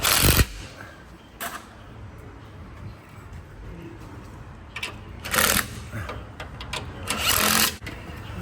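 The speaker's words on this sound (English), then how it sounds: "we're gonna go ahead and tighten up the bottom 4 bolts" A power tool whirs in short bursts while tightening the bottom bolts during a Ready Lift air bag install on a 2023-24 Ford F250, with steady workshop noise between the loud close runs.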